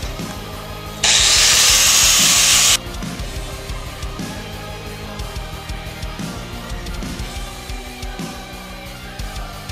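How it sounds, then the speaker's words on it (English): A power sanding disc grinds against the sides of a double-sided saw-blade hatchet in bursts, with a loud, steady hiss in one stretch, then repeated shorter passes of rubbing and grinding, close up and with no talk. "Now I'm just gonna start sanding the sides."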